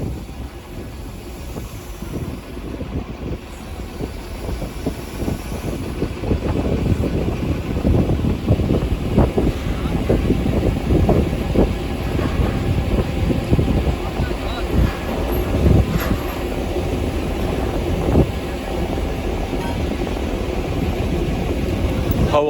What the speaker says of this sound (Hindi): हवा की शिद्दत ना अंदाजा तुम लाई सकने हो माइक भी और झंडे जिस तरह उड़न लगे ना कितनी ठंडी हवा चलन लगी है